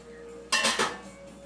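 A metal spoon scrapes and clinks against a pot while sauce is ladled out for stuffed eggplant, making two quick close clatters in otherwise quiet surroundings.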